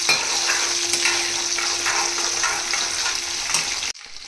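Dried fish pieces fry in a pan of hot oil, a dense, steady sizzle with soft stirring scrapes that cuts off abruptly just before the end.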